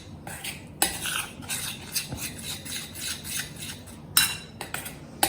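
Raw mango kadhi batter being mixed in a bowl, with repeated rhythmic scraping and clinking of a utensil against the bowl, close and fairly loud, a few sharper strokes standing out and no speech.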